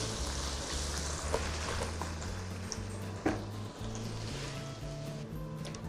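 Finely chopped garlic and ginger fry lightly in a pan for a curry, giving a steady soft sizzle that runs throughout, with a few faint utensil clicks over a low background hum.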